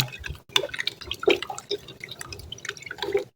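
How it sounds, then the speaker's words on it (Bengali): Sherbet ingredients being stirred and mixed in liquid, with close, irregular splashing, dripping and clinking against a glass container, coming in uneven bursts with a brief pause near the start. "আমি এটি সবগুলি উপকরণ এখন ভালো করে নেড়ে চেড়ে মিশিয়ে নিব"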